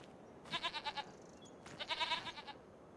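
Goats in Farming Simulator 25 let out two short, quavering bleats, each a rapid stuttering series of pulses, heard over a low steady background hum.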